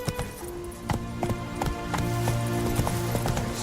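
Horse galloping in The Witcher 3, a fast rhythmic clip-clop of hooves running steadily close by over a faint game music bed.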